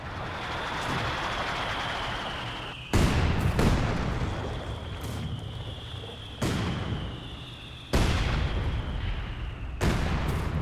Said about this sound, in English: Red Army artillery ready to fire